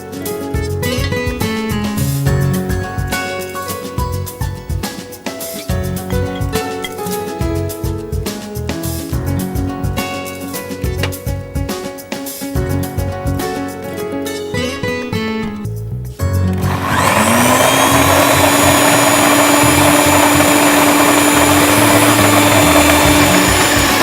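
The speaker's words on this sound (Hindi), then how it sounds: "नारियल, सफ़ेद तिल और इसमें खसखस, इसको भी इस मसाले के साथ डालकर पीस लेंगे" Mixer grinder whirs loudly and steadily, pulverising coconut, white sesame, poppy seeds and dry spices for Kolhapuri chicken masala, starting abruptly after background music and running continuously to the end.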